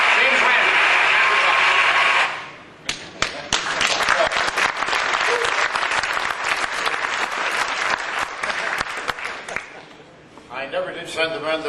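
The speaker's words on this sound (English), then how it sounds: "I think you deserve a round of applause for that." Audience applause rises suddenly and fills the room for several seconds at a live James Randi show in Sydney, a dense, steady roar of many clapping hands that thins out toward the end.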